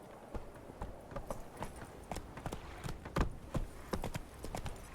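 Hoofbeats of the horse Roach in The Witcher 3 pound along in a steady galloping clip-clop, loud and close, with no voices over the rhythm.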